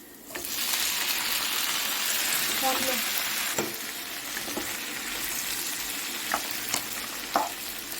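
Tomatoes fry in a pan of oil for betel leaf chutney, giving a steady close sizzle with occasional stirring clinks and scrapes, no talking.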